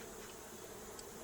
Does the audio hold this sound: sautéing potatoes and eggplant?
no